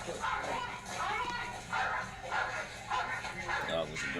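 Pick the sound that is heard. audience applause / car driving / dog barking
dog barking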